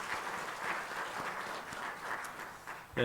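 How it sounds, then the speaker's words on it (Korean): A church congregation applauds during a Sunday service, steady massed clapping held at an even level throughout before a brief louder sound at the very end. "박수로 환영합니다."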